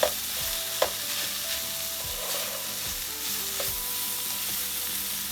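Ingredients for a savoury salmon and mushroom fettuccine are stirred in a hot frying pan, a continuous close sizzle with soft scraping strokes and light taps, with steady music beneath.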